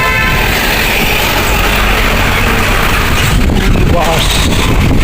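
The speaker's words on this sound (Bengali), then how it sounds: "বাস আসছে" A bus comes along a road in light rain: loud, continuous traffic roar and wind with horn toots, while a person talks over the noise.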